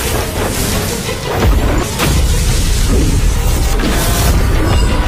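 A continuous loud roar of blasts and rumbling booms, dense and sustained, like a big effects-heavy explosion sequence in an animated fight scene from Perfect World.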